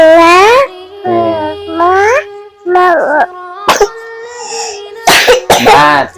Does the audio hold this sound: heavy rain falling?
no